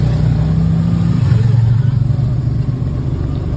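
An auto rickshaw engine drones steadily at close range on a rainy ride toward Barasat, a loud, continuous low rumble that swells briefly in the middle.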